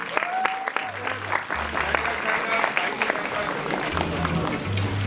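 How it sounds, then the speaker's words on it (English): Applause breaks out at a film press conference as an annual report is unveiled, with dense, steady clapping from a crowd close by that carries on for several seconds, while voices and low electronic tones sound faintly underneath. "Let's give a round of applause."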